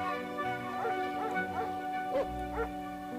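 Animated zombie dogs bark and yip in quick short bursts over a sustained droning tone, fairly faint and close together.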